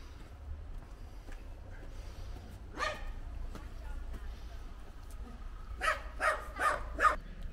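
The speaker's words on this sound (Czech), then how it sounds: "A měli jste to i se štěkotem psa." A dog barks several times in a short burst, fairly distant against a low background rumble, after an earlier single bark.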